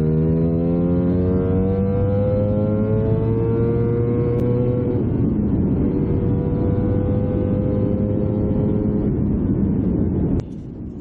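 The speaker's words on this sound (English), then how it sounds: "I am absolutely in love with this exhaust." A Lambretta scooter engine revs and drones loudly through a BGM Clubman Sport exhaust, pitch rising and settling in long sustained pulls before cutting down near the end.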